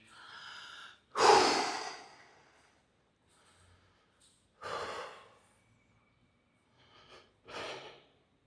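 Deep mouth breaths taken during a back exercise, four or five distinct inhales and exhales with quiet gaps between them, the first loudest and the rest softer and close by.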